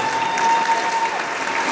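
Loud crowd applause at the opening ceremony of a national women's and men's volleyball tournament, dense and continuous with a faint tone running underneath.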